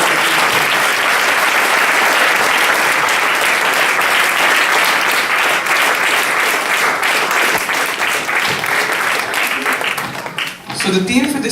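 A large audience at a community celebration gives a sustained, loud round of applause, dense clapping at steady strength for several seconds that thins out and fades near the end.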